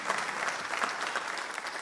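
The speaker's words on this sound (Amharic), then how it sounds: "እስቲ ለጌታ ክብር እንደገና አጨብጭቡ" A church congregation claps together in praise, a dense, loud, continuous burst of applause with no voices over it.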